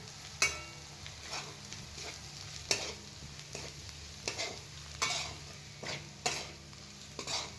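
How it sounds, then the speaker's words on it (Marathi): Onion and red chilli powder sauté in a pan for rustic egg bhurji. A quiet background sizzle is broken by repeated sharp spatula scrapes and taps against the pan, roughly once a second. "आता लाल तिखट ते पण छान परतून घ्यायचं लाल तिखट ह्याच्यात"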